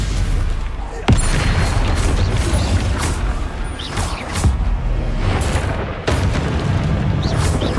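Spell explosions burst during Hogwarts Legacy video game combat: heavy booms and crashing impacts come one after another over a dense, continuous bed of clattering battle effects.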